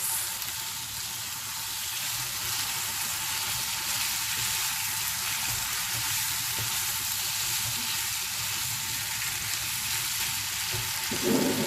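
Black pepper chicken mixture with mint leaves and spices sizzles steadily in a pan as it is mixed, a continuous close frying hiss with no talking.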